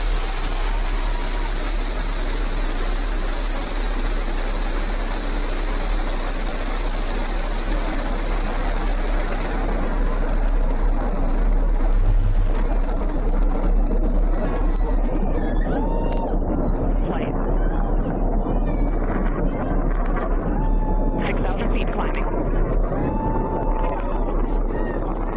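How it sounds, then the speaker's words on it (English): Loud, steady broadband roar of the New Shepard rocket engine at liftoff from the launch tower on an all-female crewed spaceflight, sustained and gradually thinning, with launch commentary voices over it. "Liftoff. New Shepard has cleared the tower."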